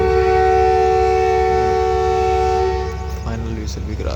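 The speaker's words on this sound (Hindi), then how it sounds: "फाइनल विसल भी करा दिया।" Tiger locomotive of the Awam Express sounds a loud, sustained horn on departure from a railway station, a steady tone held for about three seconds before it drops and trails off.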